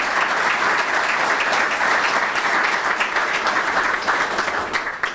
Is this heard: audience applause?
yes